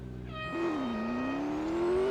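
A McLaren race car engine in the Real Racing 3 video game, on an autocross run at Dubai's International Circuit, revs up sharply and then holds a steady, rising whine, loud and close, with no talk over it.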